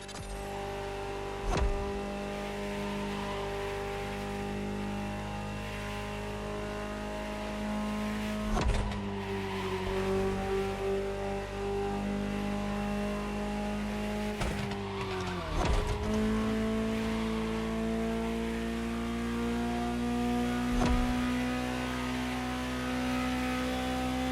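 Ferrari supercar engine in The Crew Motorfest driving game: a steady droning engine tone that rises in pitch after several sharp shifts, with occasional thumps, heard alone for the whole stretch.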